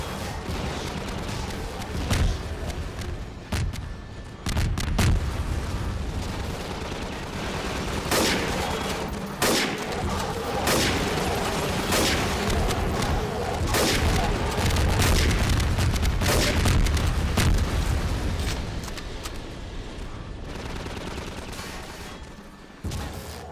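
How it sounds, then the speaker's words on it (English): Half-Life 2 combine gunships firing at plated batteries in a custom three-room level, with dense, rapid bursts of video game gunfire and booming impacts repeating loudly throughout, over a cluttered game soundscape. "the gunships deal damage to the batteries by shooting a little plate underneath the guns"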